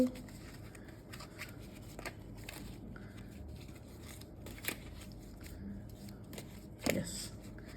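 Tarot cards are shuffled by hand, making faint, papery riffling and light snapping clicks in an irregular rhythm, with a louder flick near the end and a voice speaking softly at times.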